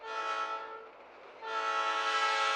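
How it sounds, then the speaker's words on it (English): A train horn sounds in two long, loud, chord-like blasts, the first fading briefly before the second swells back in strongly, with no other sound around it. "Kill the train, Bobby."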